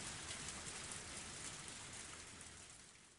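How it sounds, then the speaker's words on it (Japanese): Heavy rain in the video game When They Cry Tatarigoroshi, a dense, steady hiss of downpour that fills the whole clip alone, easing slightly toward the end. "今日は大雨ですから、これ以上いくら濡れても全然わかりませんね。"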